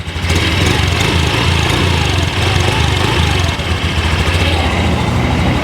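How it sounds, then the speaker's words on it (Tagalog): A brand-new Honda Beat scooter engine idles steadily nearby, a constant buzzing putter with no change in revs and no talking. "yung typical na sound ng scooter na Honda Beat na brand new"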